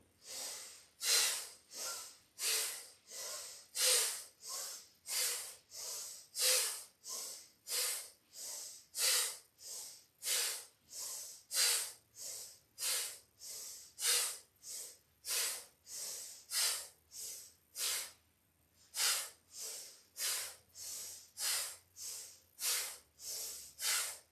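Deep, forceful yoga breaths repeat in a steady rhythm, close and fairly loud. Each inhale and exhale is a broad airy rush, about two per second at first and then slower. There is a brief pause near the end, and no talking.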